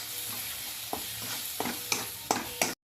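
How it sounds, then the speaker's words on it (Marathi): Okra masala with garlic masala, coriander powder and salt fries in a pan over a constant sizzle, with stirring scrapes at roughly regular intervals that grow more pronounced toward the end before it cuts off. "आता याला आपण असं छान असं फ्राय करून घेऊया"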